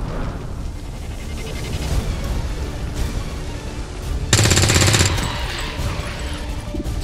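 Sustained automatic gunfire rattles in XCOM 2, a loud dense burst cutting in partway through over a rumbling battle background, then settling back under continuing game noise.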